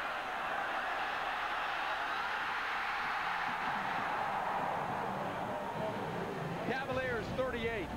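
Stadium crowd at a 1999 college football game, Georgia Tech at Virginia, roaring steadily and loudly throughout, with a commentator talking over it.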